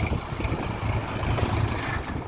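A Lovol 354 tractor's 35-horsepower four-cylinder diesel engine idles steadily, a continuous low rumbling drone with no voices over it.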